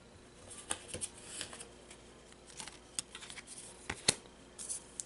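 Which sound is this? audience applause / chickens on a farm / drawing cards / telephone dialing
drawing cards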